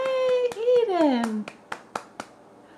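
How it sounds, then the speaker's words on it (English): A few sharp hand claps for a baby trying first solid foods, spaced and fairly close, following a high sliding voice and child sounds. "I'm clapping for you"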